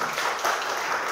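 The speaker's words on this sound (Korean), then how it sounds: "박수 한번." Brief burst of audience clapping at a talk show, a short soft patter of many hands.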